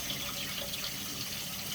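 Water runs steadily from a tap while a guinea pig is bathed, a soft, even hiss of flowing water over a basin, continuous and fairly quiet with no voices.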